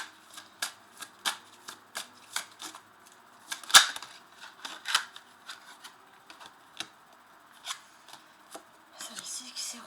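Oracle cards being shuffled and drawn at close range: a run of crisp, papery riffles and flicks, with one sharper snap near the middle. A few soft bursts of speech sit beneath the card sounds.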